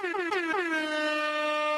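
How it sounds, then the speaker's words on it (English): A single loud, brassy air horn blast that wavers at the start and then holds steady for nearly two seconds. "You're not supposed to do the air horn anymore."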